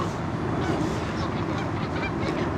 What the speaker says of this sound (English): I'm watching the Canadian geese.